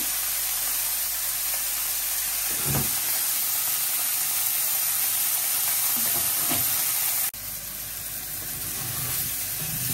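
Small fish frying in hot oil in a home kitchen, a dense, loud, continuous sizzle with steady crackle, briefly disturbed by a couple of soft knocks and stirring bumps, then a slight drop in level before the hiss resumes.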